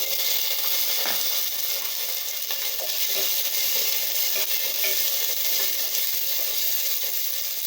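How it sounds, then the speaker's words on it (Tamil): Onion and garlic hit hot oil with cumin in a pan while a chow chow sambar is being made, giving a continuous, dense sizzle that stays close and fairly loud, with faint scraping of a utensil and no talking. "இப்போ நம்ம வெங்காயம், பூண்டு போட்டுக்கலாங்க."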